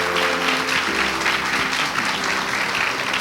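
A church congregation on its feet gives a strong round of applause during a Sunday worship service, dense steady clapping filling the room without a break for the whole stretch.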